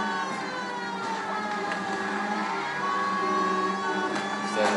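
A police car siren in the LA Noire video game wails with steady rising and falling tones over a continuous engine drone, loud and sustained throughout.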